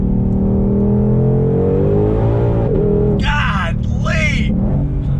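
A Ford Shelby with an automatic gearbox accelerates hard, its engine note climbing loud and close, then snapping through two quick upshifts in succession, with a voice speaking over the start of the run.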